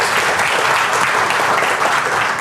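A seminar audience in Bandung breaks into loud, dense applause, many hands clapping steadily and evenly close by, with no voices over it.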